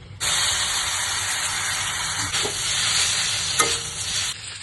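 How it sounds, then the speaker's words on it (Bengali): Spaghetti stirred in a pan with butter and garlic, a loud steady sizzle and hiss with scraping and stirring noises, close up, plus a brief clatter near the end. "এখন রসুনটা একটু হালকা ভাজা হলে স্প্যাগেটিটা দিয়ে বাস একটু নেড়ে চেড়ে নেবো।"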